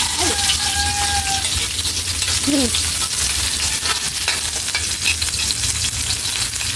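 Sliced onion sautéing in oil in a pan for chicken afritada gives a steady, close sizzle with faint stirring scrapes throughout, and no one speaks.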